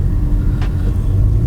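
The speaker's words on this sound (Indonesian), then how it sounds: "road noise-nya lumayan tuh" Road noise inside a Honda Civic Turbo, a steady low rumble of tyres and cabin hum on a short stretch of road, loud and unbroken, with one brief faint hiss in the middle.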